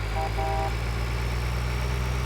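A tractor engine idles steadily in Farming Simulator 2013, a constant low mechanical hum with a few faint higher tones near the start and no talking.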